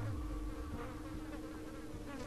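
Flies buzzing in Vampire: The Masquerade – Bloodlines, a steady insect drone held for the whole stretch over a low ambient hum, with no talking.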